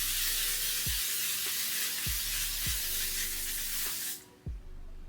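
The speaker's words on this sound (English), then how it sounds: "I'm gonna spray my face one more time with the L'Oreal Infallible just to like lock everything in." L'Oreal Infallible setting spray misted onto a face: a continuous close hiss of spray with a few faint pump clicks, cutting off abruptly near the end.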